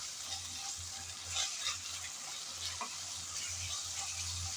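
Ginger garlic paste frying with browned onions in a pan, a quiet, steady sizzle with soft scraping strokes as it is stirred, close and alone without talk.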